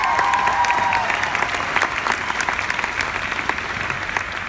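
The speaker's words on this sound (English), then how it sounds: "give him a round of applause" A large convention audience at the D23 Expo applauds for composer Alan Menken; a strong, sustained wave of clapping with a brief tone at the start, staying loud throughout.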